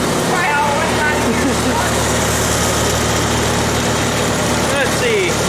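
A Farmall Super C tractor engine runs steadily at close range, a continuous low rumbling idle. A voice talks briefly over it.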